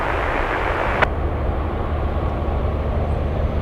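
A Boeing 747 cargo jet takes off at Anchorage airport with a loud, continuous, broadband engine roar that holds steady throughout, close and powerful, with no voices.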